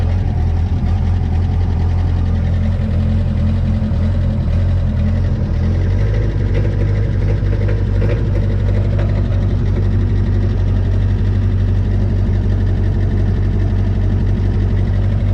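A steady, close, loud idle from the engine of a Thomas 173 vehicle, with a low rumble that shifts slightly in pitch about halfway through. No voices are heard over it.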